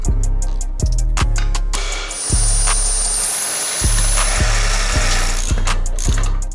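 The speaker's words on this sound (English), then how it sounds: "So I'm going to drill a hole here so I can do a first test fit." A power drill bores a hole for a homemade license plate bracket on an MX5 Miata bumper, a steady loud whine running several seconds between repeated sharp knocks and clicks.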